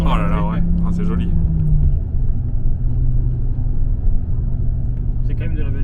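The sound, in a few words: Audi S2 five-cylinder engine running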